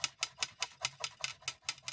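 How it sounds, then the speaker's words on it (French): Quick, regular light clicks, about five per second, like a bracelet tapping against a hard surface, close and fairly faint. "je fais du bruit avec mon bracelet"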